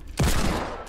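A burst of gunfire in Fortnite, a sudden loud crack that rolls into a short sustained rattle lasting under a second.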